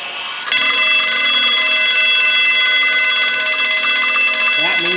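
A fire sprinkler system's electric alarm bell, signalling water flow, starts abruptly and rings continuously, loud and steady, with faint talk underneath.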